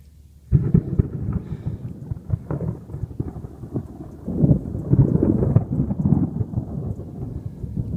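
Thunder rolls and rumbles over steady rain in a Florida marsh, a loud continuous storm that swells in the second half with no voices.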